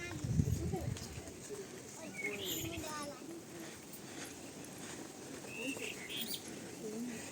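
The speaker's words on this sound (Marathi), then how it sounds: "पक्षी कशी बोलते बघ झाडावर." A bird calls from a tree outside a temple with short chirping phrases, moderately distant and soft, against outdoor background noise, with people talking nearby.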